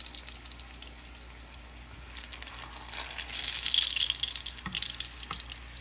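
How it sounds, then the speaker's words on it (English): A corn tortilla fries in a pan with a soft, steady sizzle that swells to a brighter, hissing crackle midway before easing back, with occasional light clicks. "I'm just going to fry it a little bit on both sides"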